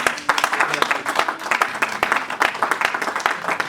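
A church congregation claps steadily in a brisk, even rhythm. The applause is fairly close and sustained throughout, with many hands striking in quick succession.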